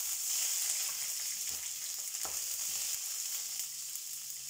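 Steady, soft sizzle of ginger and green chilies sautéing in oil in a pan, with a few faint stirring scrapes and no voices.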